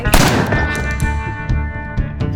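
A single sharp pistol shot in a video game, with a burst at the start and echoing tail, followed by a few fainter repeated reports.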